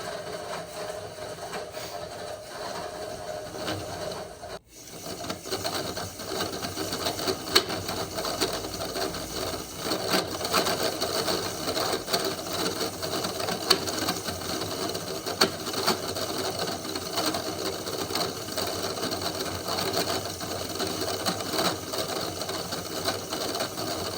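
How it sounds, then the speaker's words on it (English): A fishing reel spools on new line in a steady mechanical whir, with close, continuous clicking from the reel mechanism and a short pause near the start before the winding picks up again. "Spool it on until you have as much line as you want on here"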